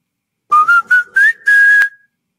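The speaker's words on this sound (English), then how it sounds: "Oh, easy. That's the McDonald's one." The McDonald's "I'm lovin' it" jingle is whistled clearly and alone: five short rising notes, the last one held a little longer before it ends.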